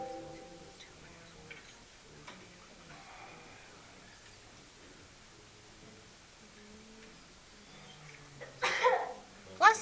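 A sneeze in a classroom during a math lesson, sudden and fairly loud near the end after a stretch of quiet talking, followed by a second sharp burst.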